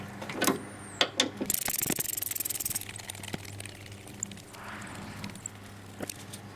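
A ratchet wrench works bolts loose from a Honda Civic 8th-generation tensioner, with quick runs of rapid pawl clicking broken by metallic knocks and clunks, close up and with no talking.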